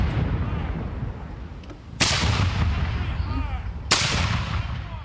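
Two heavy booming shots from a reproduction 1755 light 6-pounder cannon, a couple of seconds apart, each a sharp blast that rolls off into echo over a murmuring outdoor crowd at an artillery encampment.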